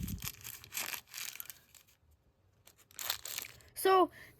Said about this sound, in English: So now we're gonna unwrap everything.